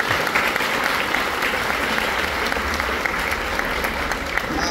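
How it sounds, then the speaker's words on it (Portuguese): An audience applauds a film crew member at a screening, a continuous, fairly loud wash of clapping and crowd noise that holds steady throughout, with faint voices mixed in. "Palmas para ela."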